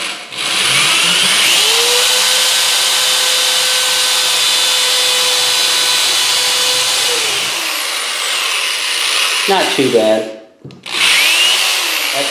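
An electric drill with a dull 1/8 inch bit bores into wood for a whirligig craft project, giving a loud, close, sustained whine for several seconds before slowing and stopping, then a brief restart. A voice speaks briefly.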